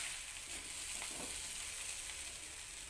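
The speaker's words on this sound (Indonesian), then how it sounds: "Taburi bawang goreng, lalu aduk kembali hingga tercampur merata." Fried noodles stirred in a pan with fried shallots sprinkled over them, giving a steady, soft sizzle with light scraping of the stirring throughout, no voices.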